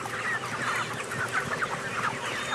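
Chickens cluck continuously on a farm, many birds close together in a lively flock, with no voices over the steady clucking.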